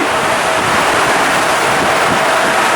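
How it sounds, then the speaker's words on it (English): Strong wind roars continuously across the microphone on the deck of the Disney Wonder cruise ship, a loud, unbroken rushing noise with a faint watery wash beneath it and no voices. "Very, very, very windy in here."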